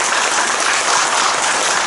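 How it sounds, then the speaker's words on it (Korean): An audience at a Buddhist temple Sunday dharma talk in Haeundae gives a loud, sustained round of applause, steady dense clapping filling the hall with no voices over it. "다시 한번 큰 박수 부탁드립니다"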